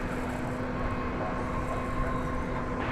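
An American Airlines Boeing 737-800 arriving at Dallas/Fort Worth airport, heard as a steady, broad jet roar at moderate distance with a faint tonal whine through it and no talk.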